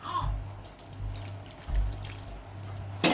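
Warm water pours and trickles steadily into a pan of cashew gravy, a soft continuous splashing with a low background hum, ending in a brief clatter.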